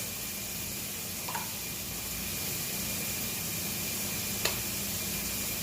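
Vegetables sautéing in a pan while being stirred, a steady soft sizzle with faint scraping and a couple of light clinks, low and even throughout.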